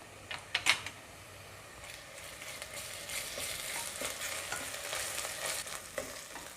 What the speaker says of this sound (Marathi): आता आपण त्यामध्ये आलं लसणाची पेस्ट घालूया आणि पुन्हा छान परतून घेऊया